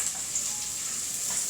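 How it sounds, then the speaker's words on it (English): Onions sautéing in hot oil for a garden egg sauce, giving a steady, close hiss of frying with a bright crackle that continues without a break. "I'm just going to add in the onions and listen to that sizzle that I love"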